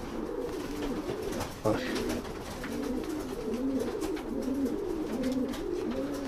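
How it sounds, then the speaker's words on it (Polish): Pigeons of the Jansen line coo steadily in a loft, their soft rolling calls repeating in a continuous rhythm close by, with a brief louder knock partway through. "To jest gołąbek linia Merksa z Jansenów na Westratę."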